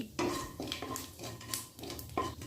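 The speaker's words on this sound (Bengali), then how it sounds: "কালো জিরেগুলোকে ভালো করে নাড়াচাড়া করে ভেজে নিচ্ছি" Black cumin seeds frying in hot mustard oil in a wok, stirred with a utensil that scrapes and clinks against the metal in repeated strokes over a faint sizzle, quiet and close.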